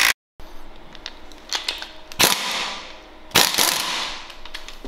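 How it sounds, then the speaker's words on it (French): A pneumatic impact wrench hammers at a variator nut on a scooter, two sharp loud bursts about a second apart in a workshop, with quieter clatter between them. "moi, je vais essayer de le faire à la clé à choc comme ça"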